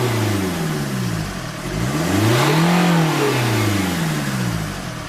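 A Fiat Abarth car engine revs up and down in long sweeping pitch arcs, loud and close, with a deep diesel-like drone throughout and no talking.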